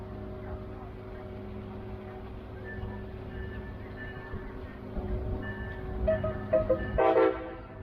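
Brightline test train rolling past at slow speed, around 15 mph, a steady low rumble with tonal hum that swells and grows busier near the end, with brief bright squeals or horn-like tones.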